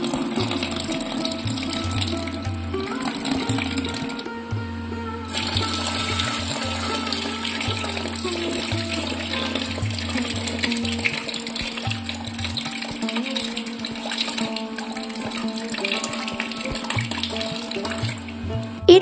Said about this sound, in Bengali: এখন খুব ভালোভাবে জল দিয়ে ধুয়ে নিচ্ছি